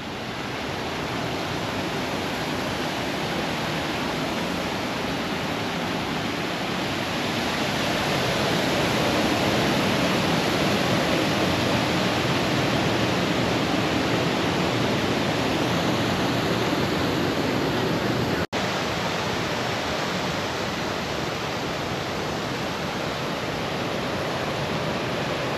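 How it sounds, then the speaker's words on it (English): Waterfall near Paradise Island in the Bahamas, a loud, steady, broadband rush of falling water that holds constant throughout with no voices. "Yeah, the waterfall."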